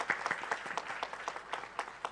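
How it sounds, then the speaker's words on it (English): Audience applause for the Deputy Prime Minister of Singapore at a green and digital maritime corridor event at JNPT: distinct individual claps in a loose, rhythmic patter, fairly faint and heard from a distance. "Can we have a huge round of applause for Deputy Prime Minister of Singapore?"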